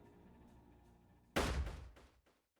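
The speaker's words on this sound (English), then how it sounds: "Very next second, I hear an explosion sound." A loud explosion effect from the Riddle Joker visual novel follows a quiet musical passage, with a sudden sharp blast that fades out over about a second.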